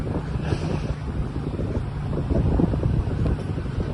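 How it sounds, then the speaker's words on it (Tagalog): Strong wind buffets and roars continuously across the microphone, a loud gusty rush with no voices. "Alakas ng hangin."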